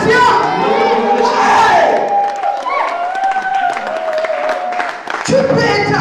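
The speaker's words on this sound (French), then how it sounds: "Acclamez pour la révélation." A church congregation cheers and acclaims in loud, dense crowd shouting that swells, then thins around a voice, before a fresh burst of shouting near the end.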